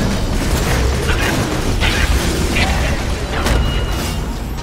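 Grenade blasts in a Borderlands 2 firefight, with several dull booms and crackling bursts spread across a busy, loud mix of mechanical game effects and a faint voice.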